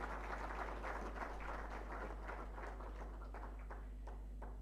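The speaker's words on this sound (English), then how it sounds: "You clap for her" Audience applause at a public dialogue celebrating a university health college centenary in Uganda, faint scattered clapping from a crowd heard at a distance over a steady electrical hum, thinning out toward the end.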